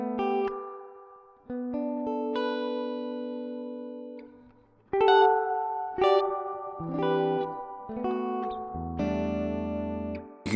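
Guitar notes and chords run through a spring reverb emulation on an effects pedal in a tape-echo comparison of the BOSS Space Echo RE-202, Helix Space Echo and NUX Tape Echo. Each phrase is bright and clear and is followed by lingering reverb tails, with no talking.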